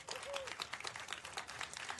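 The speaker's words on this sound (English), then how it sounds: "If we could give them all a big round of applause." An audience at a city ethics commission meeting claps for officials who have just been introduced. The scattered applause is faint and distant, with a voice faintly audible among it.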